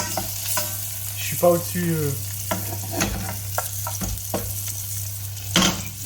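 Vegetables for ratatouille sizzling and being stirred in a hot pan, soft frying hiss with clinks and scraping of utensils, close up, with a brief French remark spoken over it.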